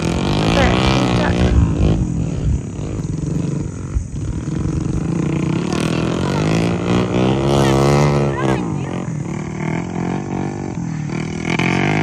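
Trail motorcycle climbing a hillside dirt path up to a summit, its engine droning loudly and steadily throughout with rising and falling revs, while people talk over it.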